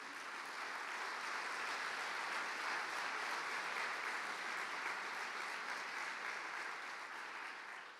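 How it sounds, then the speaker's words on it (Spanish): Congregation applauding during a religious testimony, steady sustained clapping from a crowd heard at a distance, fairly faint and even throughout. "Dale un aplauso al Señor."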